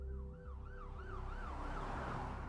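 An ambulance siren wails in a fast, regular rising-and-falling cycle, fairly close and clear over a low engine rumble, with no voices.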